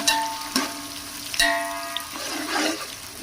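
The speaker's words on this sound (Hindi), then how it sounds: "प्याज डालेंगे, इसे हम फ्राई करेंगे" Onions frying in ghee in a pan for a spiced rice dish, a soft sizzle with a few sharp clinks and a louder hiss swelling near the end.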